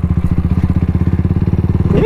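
A CAFE400 motorcycle engine thuds in a fast, even pulsing beat while riding on an expressway, loud and close for about two seconds before the tone shifts near the end.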